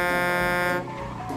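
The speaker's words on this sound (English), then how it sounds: "He honked twice." A car horn in a Grand Theft Auto game sounds as a loud, steady harmonic honk lasting under a second, followed by muffled engine and ambient game noise.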